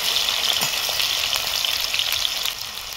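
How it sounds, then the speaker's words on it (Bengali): Potatoes frying in hot mustard oil for a jackfruit curry, a close, continuous loud sizzle with faint crackles and a slight drop toward the end. "সরষের তেল নিয়ে নিয়েছি, তেলটা খুব ভালো করে গরম হয়ে গিয়েছে। প্রথমে আলুগুলোকে ভেজে নেবো।"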